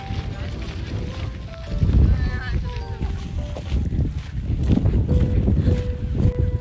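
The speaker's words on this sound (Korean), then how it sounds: "바람이 불지만 그렇게 춥지 않아요." Wind gusting outdoors at a flower field in Gyeongju, rumbling buffets on the microphone that swell and fade, with a voice and other faint tones mixed in.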